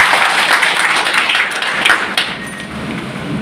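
Crowd applause welcoming a village head at a Bihar community felicitation event, a dense steady wash of many hands clapping at close range, loud and sustained throughout without pause.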